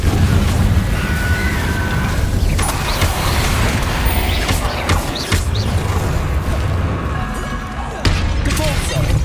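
Confringo blasting spell cast in Hogwarts Legacy, with sharp magical bursts and booming impacts over a noisy game soundtrack, plus other spell effects and creaks in quick succession.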